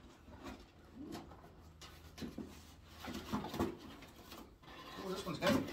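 White homing pigeons coo softly up close during an unboxing, the low murmuring calls mixed with rustling handling noise and muffled voices.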